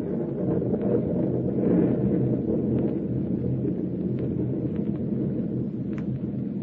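A storm at sea rising in intensity, a steady heavy roar of wind and rain with low rumbling thunder rolling underneath, loud and continuous throughout.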